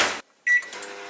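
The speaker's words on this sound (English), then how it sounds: "I'm gonna microwave it for like 10 seconds" A microwave oven warming a jar of overnight oats: a brief burst of noise, a short silence, then a sharp beep followed by a faint hum and clatter.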